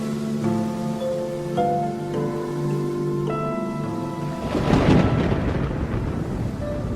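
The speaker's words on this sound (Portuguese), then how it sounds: "uma tempestade começa a se formar." A thunderstorm rolls over the Kalahari, with a heavy rumble of thunder swelling midway against steady rain and a layer of tonal music throughout.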